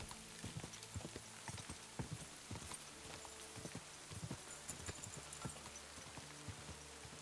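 Horse hooves clip-clopping in the medieval video game Kingdom Come: Deliverance II, a quick steady walking rhythm of hoof strikes over a constant ambient bed, with no talk.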